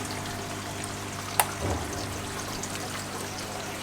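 Water flowing down into washable filter wool in a goldfish aquarium sump tank, a steady soft pouring rush with one brief splash partway through, close and continuous.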